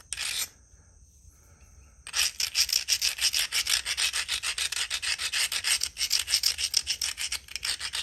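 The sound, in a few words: grinding the edge of a Georgetown flint slab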